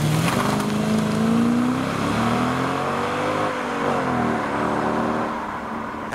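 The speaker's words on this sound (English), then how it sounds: "a few more cars are now rolling out. I think that is the Mitsubishi Evo." A classic car, a Mitsubishi Evo, pulls out of a car meet in the rain with a loud, close engine note that rises and falls as it accelerates and fades slightly at the end.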